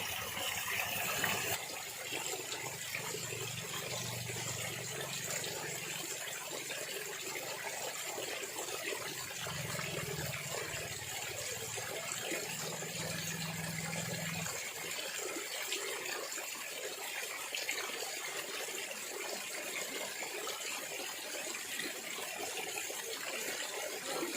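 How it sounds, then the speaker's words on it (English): Continuous faint rushing and splashing of water from a fountain, steady and unbroken, with a low hum in the first half. "you see this beautiful fountain, the water flashes"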